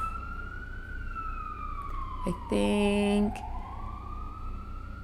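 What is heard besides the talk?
emergency vehicle sirens outside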